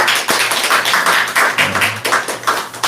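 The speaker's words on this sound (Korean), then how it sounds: "박수 해야 돼." Congregation clapping at a church service to welcome an elderly member nearly a hundred years old, a dense run of steady hand claps close by, filling the room without pause.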